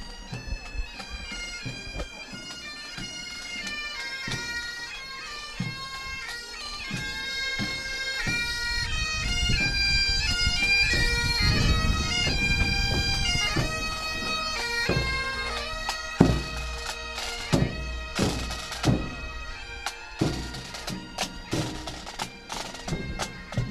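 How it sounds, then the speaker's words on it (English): Bagpipes and drums of the Brockton Fire pipe band play continuously and loudly at the Abington St. Patrick's Day Parade, with sustained droning pipe melody over steady drumbeats. "You don't have to be Irish to love the sound of bagpipes."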